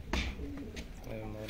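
Pigeons coo softly in a breeder's loft, a low murmuring call mixed with someone talking nearby and some room noise.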